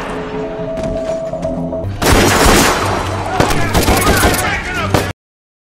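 Film gunfire as a character shoots at soldiers, a dense, loud volley of rapid shots bursting in after a tonal musical passage and continuing until an abrupt cutoff.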